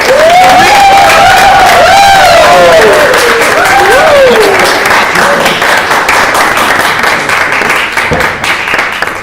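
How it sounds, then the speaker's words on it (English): An audience at a 2018 certificate presentation claps and cheers loudly and continuously for about nine seconds, with whoops and raised voices riding over the dense applause, which thins slightly toward the end. "big, big round of applause for Sarah and Patrick"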